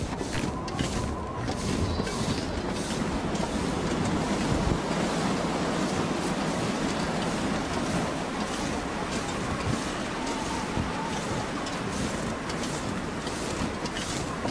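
Steady, loud wind roars and rushes without pause in the game The Long Dark, a broad constant whoosh with no voices.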